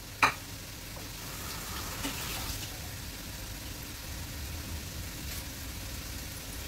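Battered banana blossom fries bubble in hot oil while they brown, making a soft, even, continuous sizzle with a small clink near the start.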